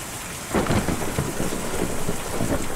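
A thunderstorm with heavy rain in the video game Kentucky Route Zero: a steady hiss of rainfall, then a loud, rumbling thunder roll that builds and lingers over the downpour.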